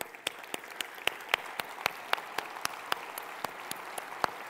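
A conference audience at an industry show applauds steadily, with dense, even clapping and a few sharper individual claps standing out throughout.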